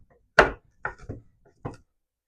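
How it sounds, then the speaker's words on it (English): A knife chops garden vegetables, kohlrabi among them, on a cutting board for pickling, with four separate close, crisp strikes at uneven intervals, the first the loudest, against near silence. "I'm going to go ahead and start just chopping up my vegetables."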